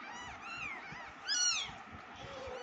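Several kittens meowing close by, a run of thin, high, overlapping mews that swell into one louder cry in the middle, with no one talking.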